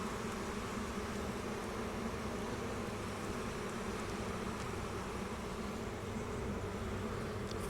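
Honey bees buzzing around an open hive during the first inspection of the season; a dense, continuous drone of many insects, steady and moderately close, with no voices.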